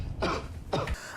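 A man coughs twice in quick succession, short harsh bursts close to the listener with a brief pause between them.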